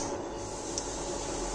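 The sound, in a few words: crushing cinnamon and clove in a mortar and pestle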